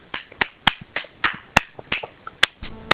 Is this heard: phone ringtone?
no